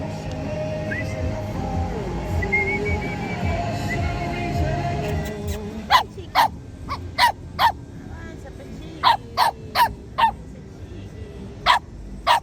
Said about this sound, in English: Hungry doggy.